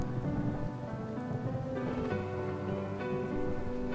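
Steady rain falls on surfaces during a weakening storm, a soft continuous patter with faint low rumbling beneath, fairly quiet and with no voices.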